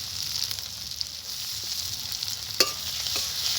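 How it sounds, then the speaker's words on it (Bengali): Sliced onion and split green chillies fry in a pan with oil, salt and turmeric, giving a soft continuous sizzle with a few sharper spatula stirs and scrapes near the end, and no talking. "এবার পেঁয়াজ আর কাঁচা লঙ্কাটাকে আমি ভালো করে ভেজে নেব।"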